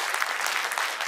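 Audience applause at a Hindi talk on astrology and birth dates, a steady dense patter of many hands clapping throughout, moderately loud with no voices over it.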